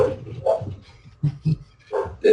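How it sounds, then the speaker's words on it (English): A dog barks several times close by, short gruff woofs in an uneven rhythm with brief pauses between them. "For anybody that hears barking, Tom brings his own government watchdog with"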